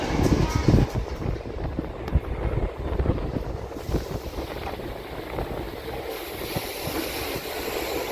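A passing express train rumbles alongside a stopped MEMU train, with loud rolling clatter and wind rush that fluctuate throughout and ease slightly toward the end.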